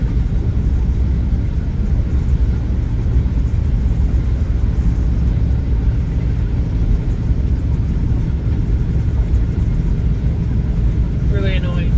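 Loud, steady road roar and wind rush fill a moving car's cabin with the back windows open, a constant broadband noise throughout, with a brief chirp near the end.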